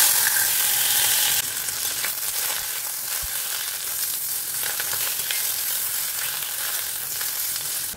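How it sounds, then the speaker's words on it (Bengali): Fish fries in a pan with a continuous hissing sizzle, close and steady. A few faint clicks and knocks sound in the background, and the hiss drops slightly in level after the first second or so. "মাছটা ভাজা হোক"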